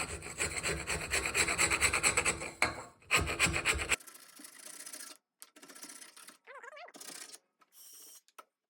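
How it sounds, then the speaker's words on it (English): A beveled pipe scrapes old grease out of the steering pivot joint of a two-stroke Yamaha outboard motor: rapid, rasping close strokes at first, then shorter separate scrapes with brief pauses between them. "Just a pipe that I beveled a bit actually works pretty good to just scrape that crap away."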